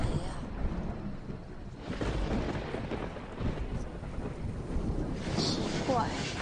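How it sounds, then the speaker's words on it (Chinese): Thunder rolls outdoors after dark, a deep continuous rumble that swells and fades over several seconds, with a wind-like hiss on top and no talking. "怎么一直打雷啊？"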